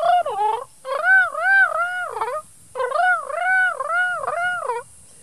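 A human voice imitates the warbling call of a magpie, producing two loud, close, looping trilled phrases with wavering pitch, separated by a short pause.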